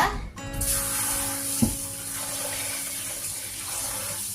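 Millet rice being rinsed a second time, with water streaming and splashing steadily through the grains in a vessel throughout, one brief knock partway through.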